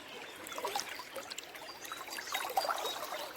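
River water splashes and trickles as someone wades across, with irregular soft swishes and gurgles close by and steady at low to moderate loudness.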